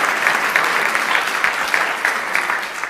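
A legislative audience at the Nevada State of the State address breaks into sustained applause, many hands clapping densely and evenly for a few seconds without a pause.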